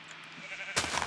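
A short Minecraft sheep bleat rises suddenly near the end, loud and close after a brief stretch of soft background hum.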